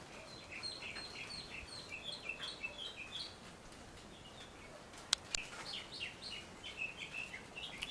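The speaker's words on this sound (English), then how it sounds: "And that's the bird singing in the background here." Real birds chirp and tweet outdoors behind a cooking setup, repeated light calls at moderate distance over faint background noise, with a sharp click partway through.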